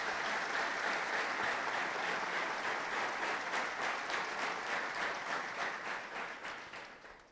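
A church congregation at New Creation Church applauds, a full, even roar of many hands clapping that holds steady and then fades away toward the end.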